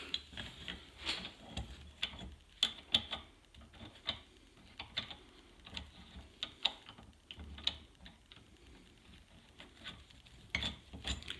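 Metal clicks and ratcheting ticks while a nut is threaded and tightened onto a Subaru WRX STi CV axle, with sharp irregular taps and scrapes close by in a quiet workshop.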